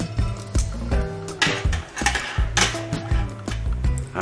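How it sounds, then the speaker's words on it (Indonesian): A low food rack is slid back into a Rockwood 12-liter air fryer, giving several close metallic clinks and knocks of wire against the basket in an uneven rhythm, with no talk. "ini rak makanan rendah, kita masukkan lagi, kita nggak usah keluarkan karena kita akan gunakan untuk memasak"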